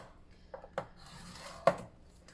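A scoring tool drawn along paper on a scoreboard while making a beginner mini album produces a few short, quiet scraping strokes separated by brief pauses.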